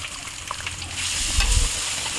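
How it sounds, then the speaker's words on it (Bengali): Two eggs cracked into a wok over onion and green chili frying in a little oil, giving a close, steady sizzle that swells briefly as they hit, with light stirring and no speech. "পেঁয়াজ আর কাঁচামরিচ কুচি তো এগুলো সুন্দর করে ভাজা হয়ে গেছে এখন দিয়ে দিয়েছে দুইটা ডিম"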